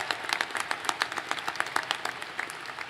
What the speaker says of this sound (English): A nice round of applause for all these graduates.